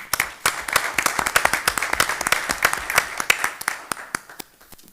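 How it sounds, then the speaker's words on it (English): Applause at a township committee meeting for the Union High School Marching Band, a modest scattering of hand claps that swells briefly and then thins out toward the end. "let's give them a round of applause"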